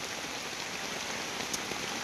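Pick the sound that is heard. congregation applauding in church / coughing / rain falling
rain falling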